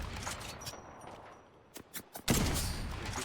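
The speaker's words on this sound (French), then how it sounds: "J'ouvre le feu." Gunfire in the video game Apex Legends: a few sharp, separate shots with gaps between them, then a dense, loud, continuous burst that carries on to the end.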